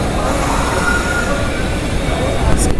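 A passenger train pulls out of Tirupati station with a continuous close rumble of carriages rolling over the rails. A brief high squeal of wheels comes near the end.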